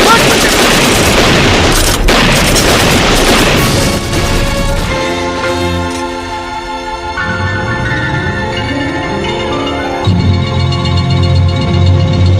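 Gunfire in a radio-style drama, with a loud, dense burst of rapid shots and crashes at the start, then dramatic music swells with a few lingering booms, and no talking.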